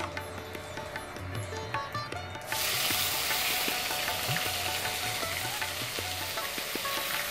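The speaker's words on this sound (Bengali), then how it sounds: "আচ্ছা, এই তেলে এবার আমি পেঁয়াজ দেবো।" Onions dropped into hot oil burst into a loud, dense sizzle partway through, after a quieter stretch with a low rhythmic hum, and the frying hiss then holds steady to the end.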